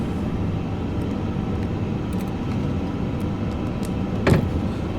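Jet engines of an airliner rolling down the runway for takeoff in a flight simulator make a steady, even roar with a short clunk near the end, and no one speaks.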